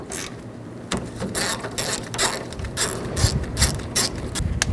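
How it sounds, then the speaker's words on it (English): A ratcheting socket wrench with an 8mm socket loosens the mirror nuts inside a 2007-11 Honda CR-V door, giving quick bursts of close, clicking ratchet strokes in uneven runs with short pauses between them. "Now we're going to take these nuts out. Use a 8mm socket."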